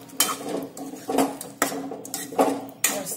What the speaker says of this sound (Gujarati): હવે આપણે જે બોલ્સ બનાવીને તૈયાર રાખ્યા છે તે આપણે અંદર લઈ લઈશું.